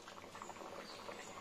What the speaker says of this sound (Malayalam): അപ്പൊ ഇത് നന്നായി തിളച്ചു വന്നിട്ടുണ്ട്.